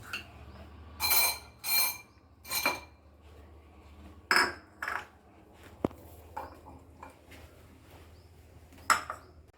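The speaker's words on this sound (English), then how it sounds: "I am mixing all the 3 fruits" Cut papaya, watermelon and grapes being stirred together in a bowl with a utensil, producing a series of close, sharp clinks and scrapes in irregular bursts separated by quiet gaps, no speech.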